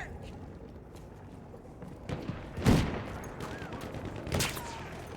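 Battlefield 1 gunfire in the Sinai Desert rings out as a few sharp, loud shots over a low background bed, with distinct cracks spaced apart and faint voices in the mix.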